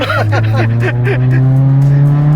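A 1988 Toyota Corolla Levin GT-Z AE92 with a 4A-GZE engine drives close by, engine droning steadily while its tires squeal in a rapid series of short chirps that then settle into a continuous engine note.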